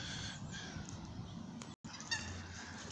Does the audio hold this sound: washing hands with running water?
no